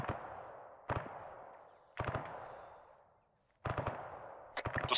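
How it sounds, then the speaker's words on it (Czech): Gunfire in the ArmA III military shooter: four separate bursts of rapid shots, each ringing out with a decaying echo, mid-distance with no talk. "Střílí naši?"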